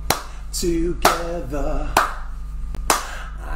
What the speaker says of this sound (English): Shall we clap our hands to the music together?